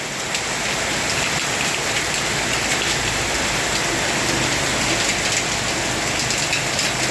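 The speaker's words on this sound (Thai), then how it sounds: "แต่ฝนเริ่มซาลงมาเล็กน้อย" Heavy rain pours steadily on a hard surface, a dense, unbroken hiss of drops that stays loud throughout with no voices.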